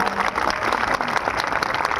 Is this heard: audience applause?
yes